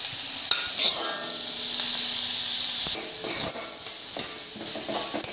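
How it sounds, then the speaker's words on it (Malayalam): Prawns and Maggi noodles for a seafood Maggi sizzle in a pan, with a steady frying hiss and repeated louder bursts of spatter as the mix is stirred, close and without talk. "നല്ലപോലെ ഇളക്കി കൊടുക്കാം. ചെമ്മീൻ ഇട്ട് കൊടുക്കണ്ടേ"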